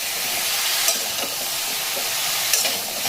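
Turmeric, grated ginger and vegetables are stirred together in a hot pan, giving a steady loud sizzle with a few soft scraping strokes close by and no talk.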